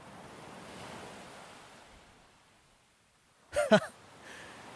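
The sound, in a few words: ocean waves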